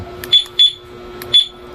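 Two-way alarm on a Yamaha Mio i 125 motorcycle giving short electronic beeps while locking, three brief chirps spaced apart over a steady low hum, close and clear with no talking.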